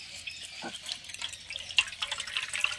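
Washed ash gourd squeezed by hand to press out water, giving faint, close wet squelches and trickling drips in an uneven rhythm.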